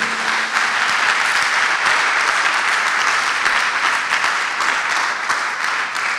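Loud, sustained applause from a church congregation, many hands clapping steadily and evenly throughout, close and full with no speech.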